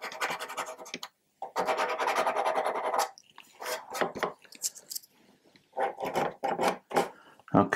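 Sandpaper rasps across the plastic hull of a Trumpeter 1/200 Scharnhorst model in close, irregular scratchy strokes, with short pauses between bursts and no talking.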